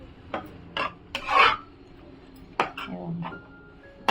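Metal lid set down on a pan of wet bombil (Bombay duck fish) chutney cooking on the stove, giving several short clinks and scraping rattles spread over a few seconds, close and moderately loud.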